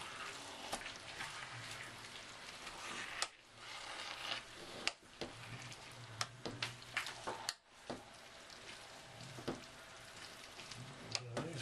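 Quorn chilli is stirred in a hot pan, giving a faint, steady sizzle broken by scattered scraping knocks of the spoon, with no talk.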